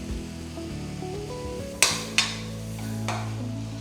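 Carrot halwa with ghee is stirred in a pan, a spoon scraping and knocking against the metal in a few distinct clunks over a steady background hum.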